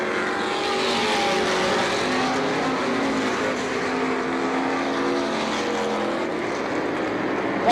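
Race cars roar around a speedway oval at the end of a 1991 race, a dense continuous engine drone from the passing pack that stays loud and steady throughout.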